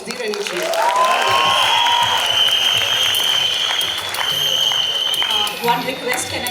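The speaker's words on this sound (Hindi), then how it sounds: "तालियां बजती रहनी चाहिए." A crowd at a college festival launch event applauds loudly and continuously, with cheering and a high sustained whistle-like tone rising over the clapping, and voices talking underneath.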